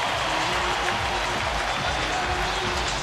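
A baseball crowd at a Houston at Los Angeles Dodgers game applauds and cheers for a curtain call, a dense, steady roar of clapping filling the ballpark throughout, with an announcer's voice faintly underneath.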